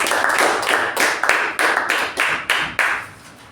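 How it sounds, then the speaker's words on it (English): Applause from a meeting audience honoring evaluators, a smaller group clapping in uneven bursts that swell and fade several times before tapering off near the end. "Let's give a big round of applause to all the evaluators."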